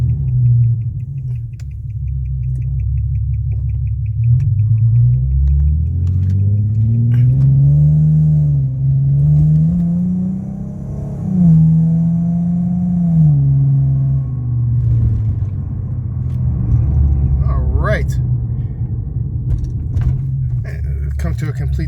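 A 2009 Infiniti G37 on a short test drive after VVT solenoid replacement, its engine rumbling low and steady with rising and falling pitch as it pulls away and slows, close and loud throughout.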